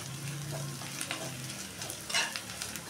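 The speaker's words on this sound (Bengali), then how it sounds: "আদাটা একটু ভাজা হলে" Grated ginger frying in oil with already browned onions for a taro and prawn curry, a quiet, continuous sizzle with a few soft scrapes of stirring.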